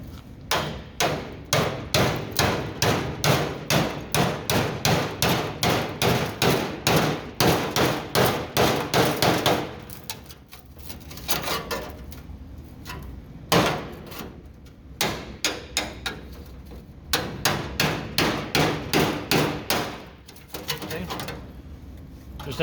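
Rapid, sharp metallic hammer taps ring out against a rusty truck cab kick panel, coming in quick rhythmic bursts close to the microphone, with pauses between runs of strikes.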